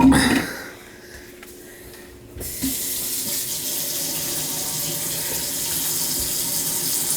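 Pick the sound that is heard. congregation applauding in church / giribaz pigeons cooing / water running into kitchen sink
water running into kitchen sink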